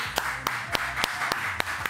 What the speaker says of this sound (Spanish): Un segundo aplauso para ellos